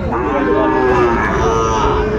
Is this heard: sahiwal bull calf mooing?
yes